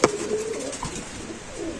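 Soft, low pigeon coos nearby at a pigeon market, a couple of throaty calls with a brief sharp knock at the start.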